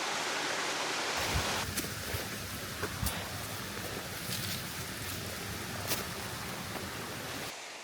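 A waterfall on a river in the Ain, heard from above the cascade as a steady broadband rushing roar that fills the whole stretch, with a few faint knocks on top and no talk.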